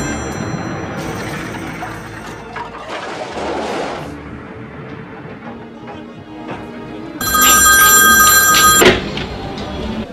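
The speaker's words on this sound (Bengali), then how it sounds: "কেউ যখন ফোনটা ধরতেছে না, এতক্ষণ ধরে বাজতেছে" A landline telephone rings loudly in a room, its bell bursts repeating in a steady pattern, with a louder, brighter burst of ringing near the end.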